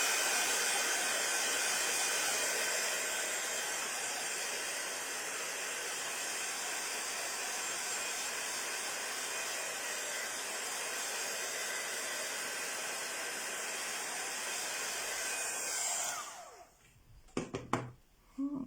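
A hair dryer blows steadily and loudly at close range for about sixteen seconds, drying white and silver paint, then cuts off, leaving a few clicks and knocks.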